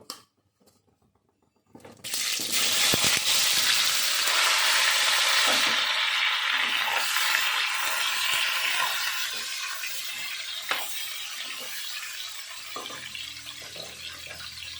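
Potatoes go into hot oil spiced with cumin and reddened tomato, breaking into a loud, steady sizzle after a quiet start, with a few clanks of stirring as the frying eases slightly toward the end.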